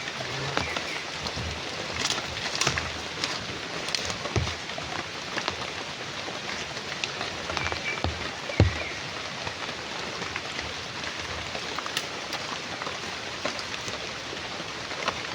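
Steady rain patters on surfaces, with scattered sharper drips and taps over a soft, continuous wash. No one speaks.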